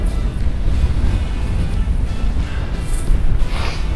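Ocean waves and wind while wing foiling off Brazil, a loud constant rush of water and buffeting wind noise across the microphone, with no speech.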